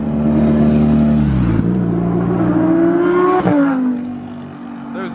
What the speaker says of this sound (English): Here comes the Lambo.